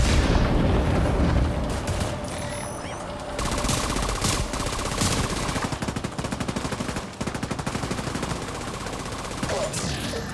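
Rapid automatic gunfire and a deployed turret rattle through a combat fight in The Division 2 video game, dense loud bursts layered with impacts and booms, continuous over several seconds.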